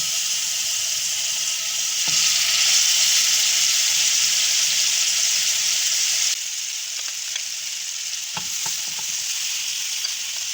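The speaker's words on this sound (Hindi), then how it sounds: "ये देखिए यहाँ पे हमारी चिकन जो है वो अच्छे से फ्राई हो रही है" Chicken pieces fry in two to three tablespoons of oil in a pan, giving a steady, loud sizzle and crackle that swells a little midway, then drops slightly with a few sharp pops near the end; no one speaks.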